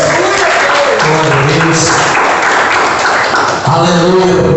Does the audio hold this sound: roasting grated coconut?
no